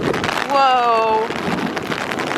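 Heavy rain hisses steadily outdoors, a dense wash of noise throughout, with a brief voiced exclamation rising over it near the start.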